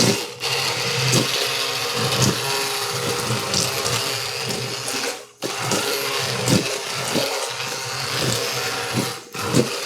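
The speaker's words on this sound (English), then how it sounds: "I'm just going to use my immersion blender to blend this stuff up." An immersion blender whirs steadily through hot braising liquid for a chicken, bacon and stuffing braise, a loud, continuous motor buzz broken by a few brief dips and restarts, with no talking.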